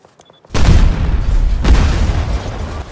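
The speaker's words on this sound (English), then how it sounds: "Complete with a huge explosion effect that has smoke that impressively casts a shadow of the smoke onto the ground, and the alarm is the cherry on top" Truck blown up in Battlefield 2042: a sudden loud boom erupts, followed by a sustained roaring rumble with a second surge of blast noise, alarm mostly buried in the din.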